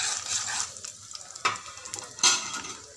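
Turmeric is stirred into a hot tempering of dried red chillies in a pan, with a crackling sizzle and two sharp scraping clanks from the spoon, close and without speech.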